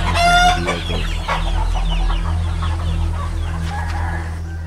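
Chickens cluck loudly and close while a rooster crows, the calls overlapping in a busy farmyard chorus over a steady low hum, with no talking.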